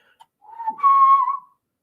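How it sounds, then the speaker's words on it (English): A person whistles loudly right into the microphone, a short rising note that swells into a sustained, shrill tone lasting about a second before cutting off into silence. "I realize sometimes the whistling might be like really loud in the microphone"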